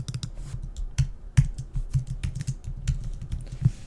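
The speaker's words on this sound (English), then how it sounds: "Okay, now I'm gonna try to type here." Quick, uneven key presses on a computer keyboard, close and fairly loud, with irregular clusters of clicks and a few heavier thumps, no talking.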